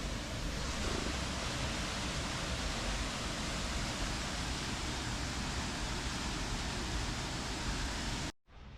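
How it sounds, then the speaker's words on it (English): Steady broadband rush of a waterfall in Jesmond Dene along the Ouseburn in Newcastle upon Tyne, a constant loud wash of falling water filling the whole stretch alone before a brief dropout at the very end. "the sound of the waterfall is just so calm"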